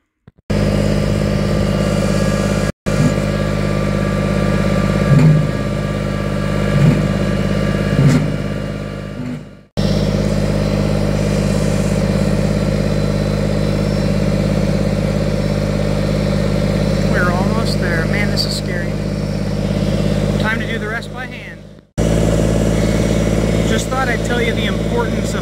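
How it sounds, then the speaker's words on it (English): A tractor engine runs steadily throughout, a loud mid-pitched drone that holds constant with brief cuts as it pushes a wind tower upright, with people talking faintly over it at times. "We're going to try to do this with the tractor, push it the rest of the way up"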